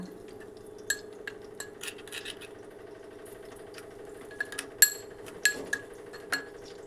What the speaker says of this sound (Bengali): সামান্য একটু জল দিয়ে দিলাম এবার এটাকে মিশিয়ে নেব